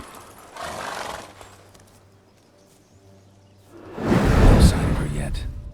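Geralt's horse Roach in The Witcher, a soft snort and hoof shuffle early on, then a loud burst of clopping and neighing noise near the end, with game voices around it.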